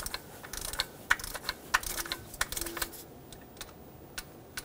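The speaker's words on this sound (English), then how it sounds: "just snug it up and give it about an eighth of a turn after it bottoms out" Fine ratcheting clicks come from a tool snugging a spark plug on a 2.4L four-cylinder Toyota Tacoma, a quiet close run of irregular ticks with a couple of faint higher whirs in between.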